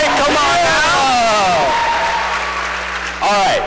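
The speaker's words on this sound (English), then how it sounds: "clap it up for class of 2024" Crowd applause and cheering for the class of 2024 at a school awards show, loud and dense, with shouted voices and speech over the clapping at the start and a fresh burst of voices near the end.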